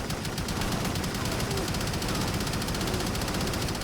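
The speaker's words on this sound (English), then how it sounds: "Use Smart Link and your minigun to eliminate them." Sustained minigun fire in the shooter Shadowrun, a rapid, unbroken mechanical stream of shots held loud and close throughout.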